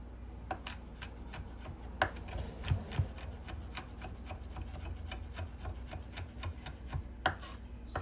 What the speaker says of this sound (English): take your knife and just chop the garlic just like that